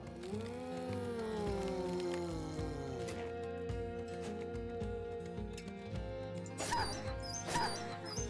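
Dog whimpering and yelping in the Battle Brothers video game, plaintive gliding whines over game music and battle sounds, with brief sharper yelps near the end.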